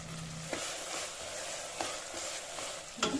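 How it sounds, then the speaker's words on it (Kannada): Chopped tomatoes with salt sizzle steadily in a pan for pav bhaji, with several short spoon-scraping strokes over the continuous frying hiss, close and alone without speech. "ಟೊಮೆಟೊನ ನೀವು ಬೇಕಂತ ಪೇಸ್ಟ್ ಮಾಡಿ ಹಾಕೊಳ್ಳಿ, ಇಲ್ಲಾಂದರೆ ಸಣ್ಣಗೆ ಕಟ್ ಮಾಡಿ ಕೂಡ ಹಾಕೋಬೋದು. ಚೆನ್ನಾಗಿ ಫ್ರೈ ಮಾಡ್ಕೊಳ್ಳಿ"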